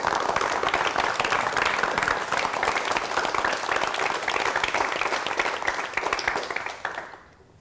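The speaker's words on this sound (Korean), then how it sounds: "여러분 오화백을 박수로 맞이해 주시면 대단히 고맙겠습니다" Sustained applause from a studio audience welcoming a Western-style painter onto a broadcast stage, dense and even clapping that continues loudly before cutting off abruptly near the end.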